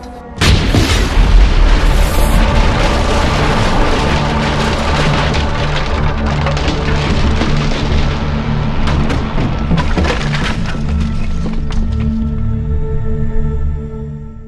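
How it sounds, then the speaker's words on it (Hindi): An explosion blows up a government building in Kharkiv in wartime Ukraine. A sharp blast opens a dense roar of crashing, splintering and falling debris that stays loud and slowly thins over about fourteen seconds. "खारकीव में धमाके से उड़ती ये सरकारी इमारत।"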